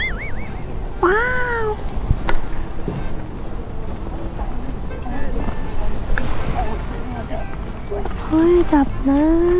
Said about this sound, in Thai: น้องแมวที่นี่ตัวอ้วนดีมากเลยค่ะ